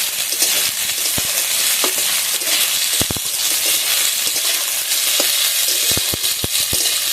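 Ginger garlic paste frying in a pan for jhinge aloo posto, a loud continuous sizzle broken by sharp taps and scrapes of a spoon as it is stirred, no speech.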